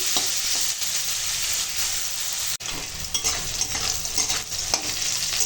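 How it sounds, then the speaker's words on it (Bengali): Bitter gourd pieces with salt and turmeric fry in a pan, giving a steady crackling sizzle. A utensil stirs and scrapes through it, with a sharp knock partway through. "উচ্ছেতে এখন নুন হলুদ দিয়ে দিয়েছি আর এখন একসঙ্গে ভেজে নেব"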